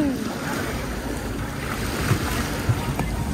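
A boat rides over ocean waves off Boracay, with steady wash and wind noise buffeting the microphone and a few faint bumps, no clear voices.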